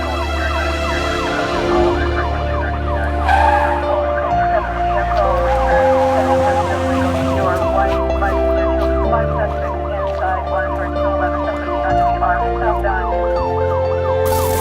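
Wailing police-style siren sound effect layered over a pulsing music bed, the rising and falling tone loud and continuous throughout with no talk.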